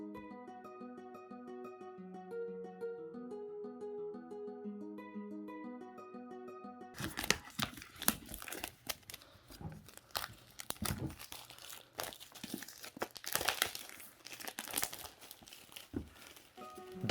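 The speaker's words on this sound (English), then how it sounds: "it's time to cut the seal." Cutting the seal and opening the box of a Hohem iSteady X2 gimbal brings close, irregular crinkling and tearing of plastic and cardboard, following a stretch of soft background music, with no talk.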